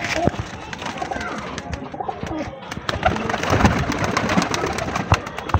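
Pigeons of a crested, top-quality fancy breed held in a flock of about thirty coo repeatedly nearby, soft overlapping throaty calls rising and falling, with scattered flutters and faint background noise.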